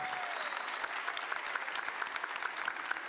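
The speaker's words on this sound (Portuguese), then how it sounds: "Não, aplauda de verdade, aplauda de verdade." A church congregation applauds steadily during a sermon on the family, a dense, even wash of many hands clapping at moderate volume with no speech over it.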